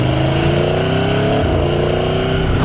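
An Aprilia Tuono V4 1100 RR motorcycle engine roars loud and close, its rising and shifting harmonic drone revving continuously through the whole stretch with no break.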